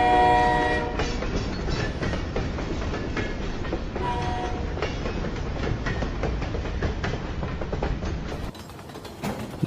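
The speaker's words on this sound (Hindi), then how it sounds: "सिर्फ पटरी पर दौड़ती ट्रेन की आवाज" A train runs steadily along the tracks, loud and close, with a continuous rumbling roar, rhythmic clatter over the rails and a horn sounding near the start, with no talking.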